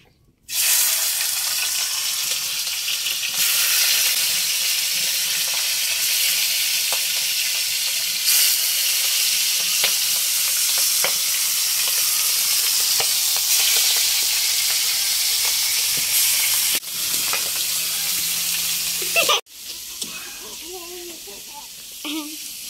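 Mixed leafy greens fry in a pan with a loud, continuous sizzle and hiss for nearly twenty seconds, with occasional stirring clicks. Near the end the frying drops away and faint voices are heard.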